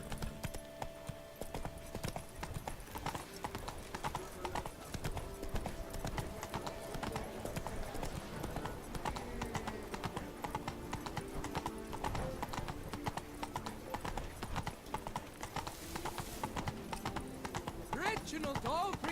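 Horse hooves clip-clop steadily through the Witcher 3: Blood and Wine game world, a rhythmic gait that runs the whole stretch beneath game ambience and voices.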